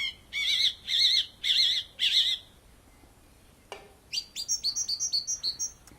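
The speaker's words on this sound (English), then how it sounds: "I hope we don't have these birds chirping the whole round." Birds on a golf course give four loud, warbling chirping bursts in the opening seconds, then a quick run of rapid high tweets near the end, with nobody talking.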